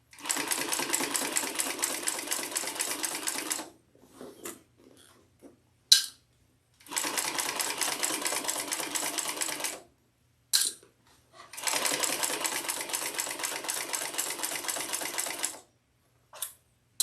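Sewing machine stitching a bag in three long, even runs of rapid mechanical chatter, with brief pauses between them filled by small clicks and handling taps.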